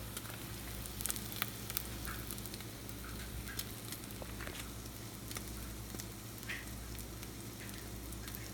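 Eggs with onions frying in a pan give a quiet, continuous sizzle with faint crackles and light pops, heard close and steady with no talking.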